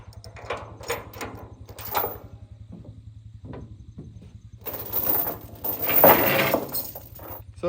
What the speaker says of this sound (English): The chain just drops.